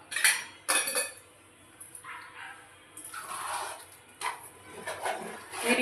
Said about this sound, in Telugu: మీరు ఇప్పుడు తిప్పుకుంటూనే ఉండండి, లేదంటే అడుగు పట్టేస్తుంది.